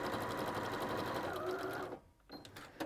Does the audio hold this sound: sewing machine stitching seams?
yes